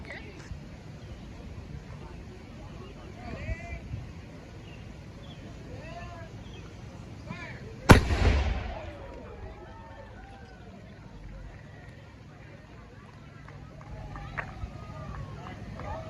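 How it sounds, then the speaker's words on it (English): A Civil War cannon fired at Harpers Ferry: one sudden loud boom at a distance, with a short rumbling decay, set among outdoor ambience, birdsong and a nearby voice talking. "So it looks like we're all lining up for another cannon fire."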